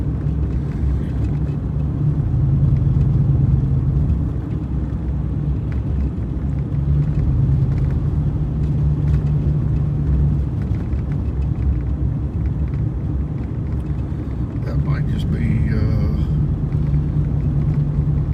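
A trash truck rumbles along a snowy road, its deep, steady engine drone holding for the whole stretch, with a brief higher rattle and clank near the end.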